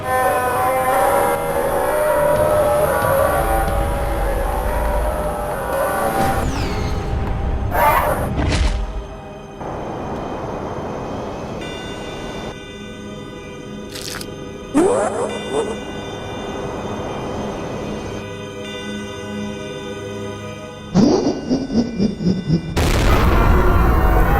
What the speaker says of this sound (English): That is until what appears to be a ballistic missile is shot at Sonic.